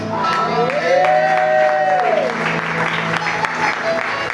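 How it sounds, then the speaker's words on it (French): A church congregation applauds loudly and steadily while a sustained sung or played tone rises and falls over the crowd noise. "Applaudis très fort pour le Seigneur."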